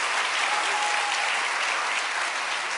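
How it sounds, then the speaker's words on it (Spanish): Church congregation applauding the Lord, a thick continuous wash of clapping at even loudness from start to finish with no talking. "denle fuerte su aplauso al Señor"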